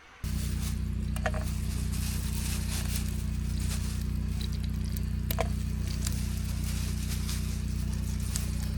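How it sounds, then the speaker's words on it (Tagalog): Rushing river water at a riverside campsite in Santa Inez, Tanay, Rizal, a steady continuous roar of flowing current with faint splashes and no talking. "Grabe sarap sa tenga ng ragasan ng ilog."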